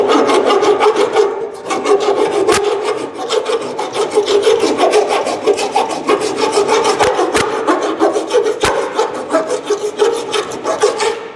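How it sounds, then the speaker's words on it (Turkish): Rhythmic rasping strokes of a hand file scraping across car body sheet metal during dent repair, steady back-and-forth passes, close and loud with no voices. "Sacın zımparası diyoruz biz buna genelde."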